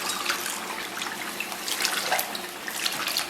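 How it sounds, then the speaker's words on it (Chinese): Tap water pours into a hot wok of fried pork bean sauce to rinse out the sauce bowl: a steady, close splashing rush that lasts throughout, with no voices. "然后咱们来点水啊"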